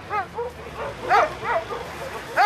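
Sled dogs, twelve brought to the start of an eight-day Alpine sled dog race from Unterengadin to Sexten, bark and yip in several sharp bursts at middle distance, with a whimpering tone between calls.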